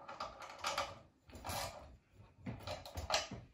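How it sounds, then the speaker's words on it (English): Bolts being tightened with a ratcheting tool while assembling an Earthway 1001-B precision garden seeder, three bursts of rapid mechanical clicking and scraping, close up with no talking. "now I can give them a good tighten there."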